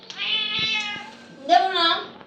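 A cat with a sore leg gives two drawn-out, close meows, the first longer and the second rising sharper after a short pause, clear and loud with no talk over them.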